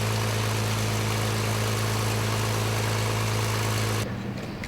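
The engines of a WWII de Havilland Mosquito wooden plane run in a steady, close, heavy drone, then cut off abruptly near the end, leaving a quieter rumble.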